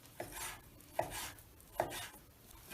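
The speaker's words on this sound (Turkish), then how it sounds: "Jülyen şekilde doğruyoruz." A knife chops steadily through fatty meat on a board, cutting julienne strips for çökertme kebab, with sharp, regular strikes about every second, close and fairly quiet.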